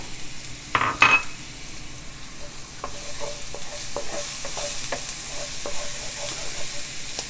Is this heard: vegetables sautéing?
yes